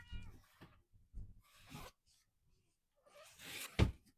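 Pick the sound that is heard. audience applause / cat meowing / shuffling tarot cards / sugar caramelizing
cat meowing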